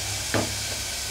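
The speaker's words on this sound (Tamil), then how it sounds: "வெங்காயம் வதங்கினோம்னு பூண்டு பேஸ்ட் ஒரு ஸ்பூன் எடுத்து வச்சுருக்கேன், அதையும் இதில் சேர்த்துக்கலாம்." Garlic paste added to sautéed onions in a pan for veg korma gives a steady hiss of sizzling, with one brief scrape of stirring partway through.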